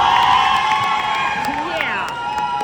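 Graduation crowd at a university law school ceremony cheering and shouting steadily, with whistles and raised voices layered over a continuous roar.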